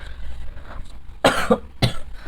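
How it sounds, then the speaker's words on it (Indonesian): Two sharp coughs in quick succession, close and fairly loud, following a quiet stretch of faint background murmur. "Aduh sorry, batuk teman-teman."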